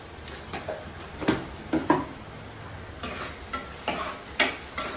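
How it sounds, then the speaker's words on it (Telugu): Onions and curry leaves frying in oil in a pan for a gongura prawn curry, a soft continuous sizzle broken by a string of sharper spoon scrapes and clinks against the pan, close up with no speech. "ఉల్లిపాయలు వేపుకుంటున్నానండి అవి అయితే కొంచెం ఎర్రగా వేగాలి"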